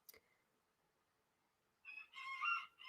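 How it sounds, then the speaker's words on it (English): A rooster crows outside an open window on a fine day, one loud raspy call rising in the final second after a short click and near silence. "So you probably will hear some chicken noises."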